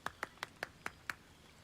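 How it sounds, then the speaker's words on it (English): Six sharp hand claps in Baldur's Gate 3, in an even, unhurried rhythm, close and fairly quiet, with nothing else around them. "I'll clap."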